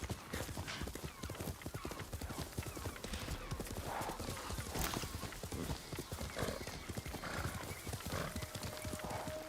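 A horse gallops in the video game Ghost of Tsushima, its hooves clip-clopping in a dense fast rhythm with a neigh partway through, close and loud.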